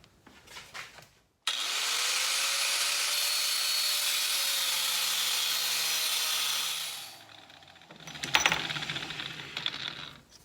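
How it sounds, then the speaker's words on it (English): A threaded rod is cut off in a metal workshop with a power tool that spins up to a loud, sustained whine for about six seconds, then winds down, followed by rattling and clattering metal handling. "So I'm going to cut the threaded rod off here"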